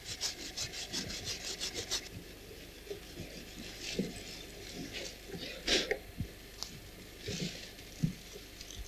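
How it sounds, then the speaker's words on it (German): Steel wool rubbed over engraved pewter tableware in a workshop, a close, dry rasping scrub in quick strokes, faster at first and then slower and patchier. "Die verbleibenden Arbeitsspuren lassen sich mit der Stahlwolle besonders gut entfernen"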